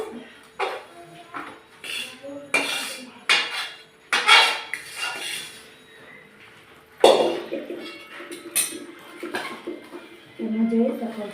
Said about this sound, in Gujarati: હવે આ ગ્લાસ લીધો છે તેમાં આપણું અડદિયું બધું નાખી દઈશું